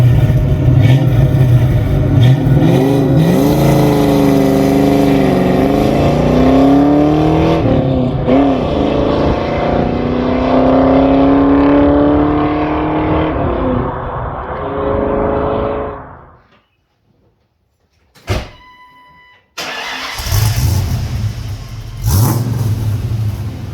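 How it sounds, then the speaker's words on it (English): A car fitted with a budget chambered muffler accelerates hard, the exhaust note climbing through several revving sweeps and gear changes, loud and close, before cutting to near silence and a short burst of engine noise again. "we're going to do an acceleration test right away here"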